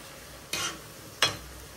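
Mutton biryani ingredients fry in a pot with a faint, even hiss, while two quick stirring scrapes sound about a second apart.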